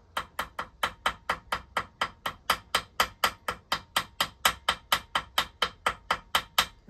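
Ball end of a hammer tapping inside the bolt holes of a cover, in a steady run of about two dozen sharp metallic knocks, evenly spaced and close, with no talk.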